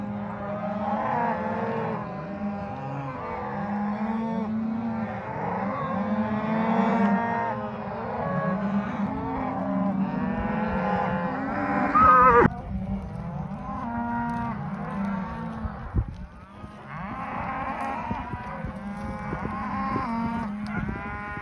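Cattle being gathered for fall cow work, a herd mooing and bawling almost continuously, many overlapping calls near and farther off, with no voices.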